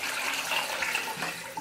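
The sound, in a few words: water being poured out of a container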